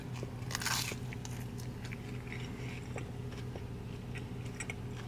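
Someone bites into a thin but firm pizza crust topped with melted cheese, sauce and banana pepper, giving a quick close crunch followed by quieter chewing.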